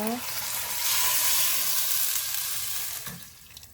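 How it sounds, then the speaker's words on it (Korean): Water pours into a pot for tofu seaweed soup, a rushing, hissing splash that swells, holds steady, then tapers off near the end, with no talking. "물을 부어주세요."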